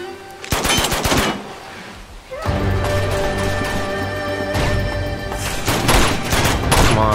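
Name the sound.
gunfire in the video game Uncharted 2: Among Thieves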